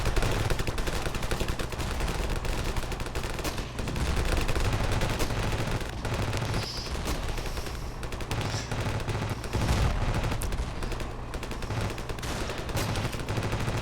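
Continuous loud gunfire and machine-gun bursts fill the Ravenfield video game battlefield, with dense overlapping shots and distant explosions, and no talking.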